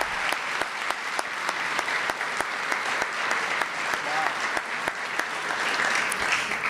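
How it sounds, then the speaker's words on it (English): An audience at a high school senior awards and scholarship night gives a round of applause, steady crowd clapping with some sharper claps standing out nearby, fairly soft throughout. "I think that deserves a round of applause"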